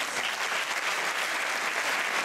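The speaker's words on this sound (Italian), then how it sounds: "I vostri applausi ci hanno dato una carica dietro" Loud, steady applause from an audience fills the hall at a dance school show of La Divina Commedia, dense and continuous throughout with no gaps.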